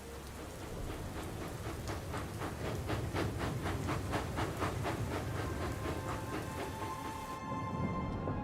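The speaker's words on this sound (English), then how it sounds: "Was that the tourist train?" Heavy rumbling with a rhythmic clatter of wheels on rails as a train passes steadily, loud and near, the noise dense throughout.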